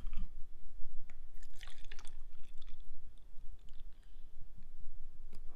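Floor cleaner is poured into a bucket of water, heard as splashing and dripping liquid with small clicks, fairly close and uneven, with no talking.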